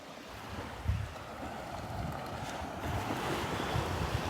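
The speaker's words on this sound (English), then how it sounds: "Some little tiny waves lapping up on the shore here this morning." Small gentle waves lap at a beach shore in North Naples on a breezy morning, a steady soft wash of water with light wind rumble and no voices.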